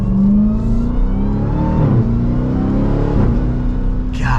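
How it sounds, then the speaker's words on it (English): A 2023 Dodge Durango SRT Hellcat AWD accelerates hard, its supercharger whine rising over a deep, thunderous exhaust roar heard from inside the vehicle, loud and continuous with a gear shift midway. "You hear the whine of that supercharger, and there is just a thunderous exhaust back there."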